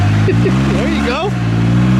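A 2025 Polaris Ranger XD 1500 engine holds a steady, loud drone with its clutches straining under load, close and continuous for a couple of seconds while people talk over it.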